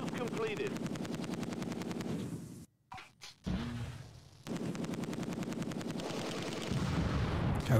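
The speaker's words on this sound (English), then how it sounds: "We're under heavy fire." Heavy machine-gun and rifle fire in the World War II strategy game Close Combat 2, dense rapid bursts that cut out briefly and then resume with sharp individual cracks, while a voice talks over them.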